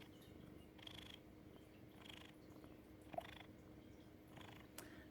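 A house cat purrs softly and close by, a low continuous rumble that swells with each breath in a slow rhythm of roughly one cycle per second, with no voices.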